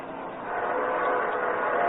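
A steam train's rolling rumble and clatter in an old radio drama, a steady band-limited wash that swells slightly louder after the first half second and holds with no voices.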